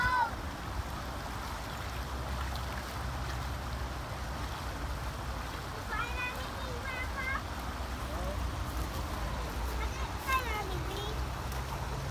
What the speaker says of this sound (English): Lots of water flowing.